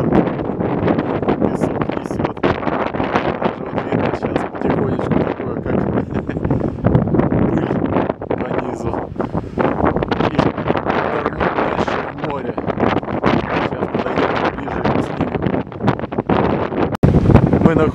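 Strong wind blows by the sea at Vityazevo near Anapa, buffeting the microphone with loud, continuous rumbling gusts over distant surf, while a voice talks in the background.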